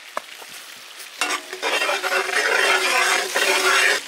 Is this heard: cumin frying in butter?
yes